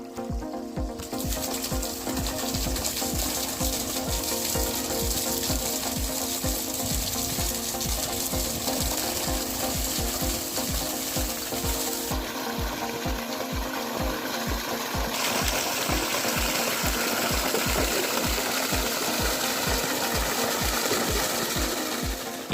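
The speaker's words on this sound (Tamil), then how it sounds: "நிலத்துக்கு தண்ணி விடுறதுக்காக நான் இன்னைக்கு மோட்டார் எடுத்து விட்டுருக்கிறேன்" A farm motor pump runs steadily to irrigate a field after seeding greens, giving a loud, continuous mechanical chugging with a fast regular rhythm throughout, close and alone.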